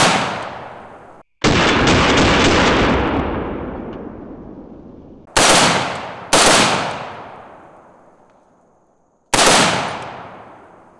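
Five loud gunshots from an FN SCAR 17S .308 rifle, fired at uneven intervals outdoors. Each crack is close and sharp, and a long rolling echo dies away after it.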